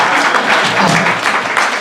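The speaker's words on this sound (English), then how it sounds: "You can clap" An audience at an entrepreneurship fireside chat breaks into applause, dense clapping from many people filling the room evenly, fairly loud and close throughout.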